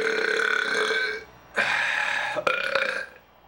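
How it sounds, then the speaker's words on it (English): A loud, drawn-out human burp in two main bursts with a short gap between, followed by a brief rough tail, close and alone without talk. "none of those are as disgusting as this burp"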